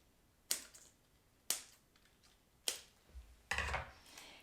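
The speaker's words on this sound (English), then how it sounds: "so now we just need to cut off these bottom pieces." Card stock pieces being cut off the bottom of a handmade bendi fold card: four crisp, close cutting snaps spaced about a second apart, the last one longer and rougher, with no talking.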